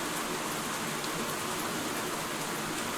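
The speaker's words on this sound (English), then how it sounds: "I'm gonna stop the rain now." Steady rain effect from a Pathfinder virtual tabletop game, a constant even hiss of falling rain with no breaks and no voices.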